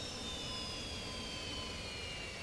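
In a flight simulator game, a jet engine's throttle is pulled to cutoff, leaving a steady broadband roar with a faint high whine that glides slowly downward as the engine spins down.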